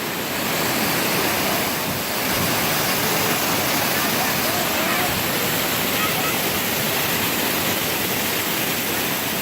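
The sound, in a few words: waterfall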